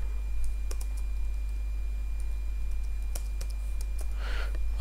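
Someone types Java code on a computer keyboard with sparse, irregular key clicks, close and fairly faint, over a steady low hum.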